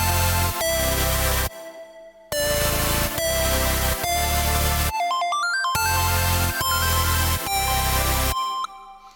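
Compressed synth drop built in FL Studio, with punchy stabbed chords that cut in and out in short bursts, broken by brief silences and a rising stepped arpeggio in the middle, with no voices.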